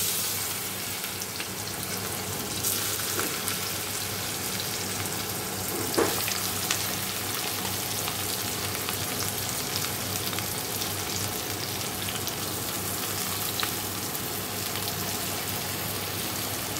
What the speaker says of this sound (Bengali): এঁচড়টা সিদ্ধ করে রেখেছি, এখন ভাজবো, ভেজে ভেজে এই থালাটার মধ্যে তুলবো।